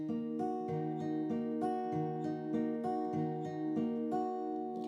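An acoustic guitar is fingerpicked in a slow, even pattern with the thumb alternating between two bass strings under the ringing chord notes. The playing is close and clear with no talking.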